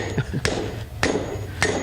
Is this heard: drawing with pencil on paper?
no